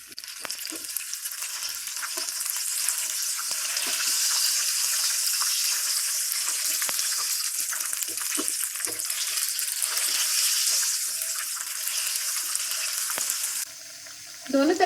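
Green onion pakoras frying in oil, a steady dense sizzle with crackling pops lasting throughout, close and fairly quiet, briefly dropping near the end.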